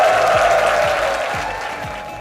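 Applause sound effect played in an online event, a steady burst of clapping that fills the short stretch and fades slightly toward the end, with no voices over it.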